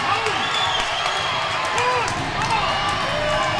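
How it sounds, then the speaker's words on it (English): A crowd cheers and roars at a high school wrestling match between Seymour and Greeneville, a dense continuous din with whistles and shouts rising through it, loud and steady, while a commentator talks over it. "Greeneville crowd going nuts"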